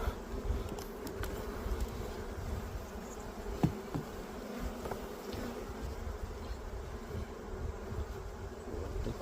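A small colony of honey bees buzzes in an opened hive during a split and queen introduction, a dense, steady drone that continues throughout with brief clicks of handling and no speech.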